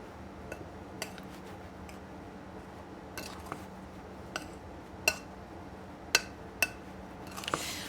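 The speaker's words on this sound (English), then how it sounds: "we're going to do a little mixing here. We'll work that in." A spoon clinks against a bowl while coffee cake ingredients are mixed, giving soft scattered taps and scrapes with a few sharper clinks near the end, quiet and close with no voices.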